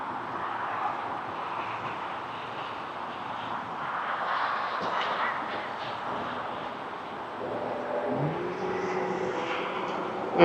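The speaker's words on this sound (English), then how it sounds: "So it's the Delta airline from Atlanta to Toronto. Right now it's 775 feet and 135 knots, and it's about to touch down." A Delta airliner from Atlanta landing at Toronto Pearson airport, heard as a steady distant jet roar that slowly builds, with a rising engine whine near the end and no talking.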